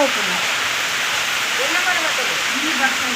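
Wind-driven rain falls during an outdoor Krishna Janmashtami festival, a loud steady rushing hiss close to the microphone with someone talking faintly over it.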